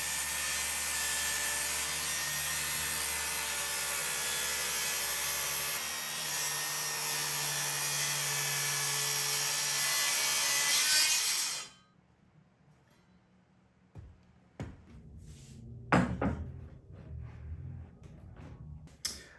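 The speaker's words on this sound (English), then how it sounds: "I'm going to take this 7 1/4 inch circular saw. I've got a brand new fresh blade on it." A 7 1/4 inch circular saw with a fresh blade ripping lengthwise down the middle of a wooden keel stem, a loud sustained whine for about eleven seconds that stops abruptly, followed by a few scattered knocks and handling sounds.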